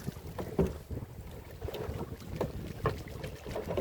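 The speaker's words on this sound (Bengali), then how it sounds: "প্রচণ্ড ঢেউ, আর পুরো নৌকা দুলছে আমাদের।" Rough river waves slapping and rocking a fishing boat in the Sundarbans, with gusting wind noise over the microphone and irregular water splashes and knocks against the hull, fairly faint and without talk.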